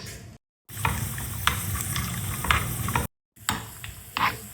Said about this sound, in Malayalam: അതിലേക്ക് നമുക്ക് ഒരു 2 സ്പൂണ് നെയ്യ് ഒഴിച്ചു കൊടുക്കാം. ഇതിലേക്ക് കുറച്ച് കാഷ്നട്ട് ഇട്ട് കൊടുക്കാം.